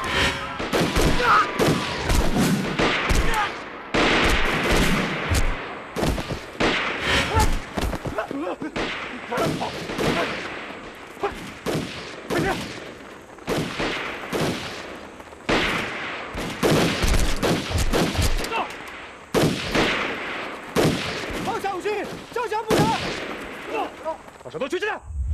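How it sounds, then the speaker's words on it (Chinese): Machine gun and rifle fire in a Chinese anti-Japanese war action film: loud, sustained volleys of shots and booms rattle on and off for the whole stretch, with shouting voices mixed in. "机枪！"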